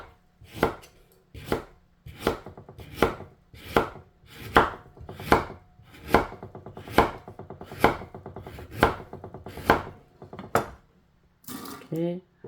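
A knife chops through dried peony root on a board, about a dozen sharp, evenly spaced thunks at a slow steady rhythm, close and clear, with a brief clatter at the end.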